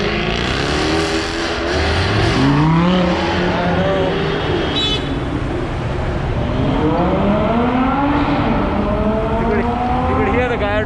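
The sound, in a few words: Lamborghini Gallardo supercars driving past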